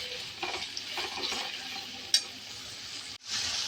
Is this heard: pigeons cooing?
no